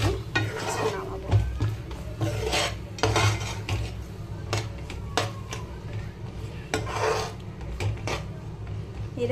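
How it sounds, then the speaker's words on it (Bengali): Peanuts being stirred into hot jaggery for badam chikki: repeated scraping and clinking of a spoon against a pan at close range, uneven rhythm, with a voice speaking at times. "এরকমভাবে বাদামগুলো জাস্ট কিছুক্ষণ নাড়তে হবে"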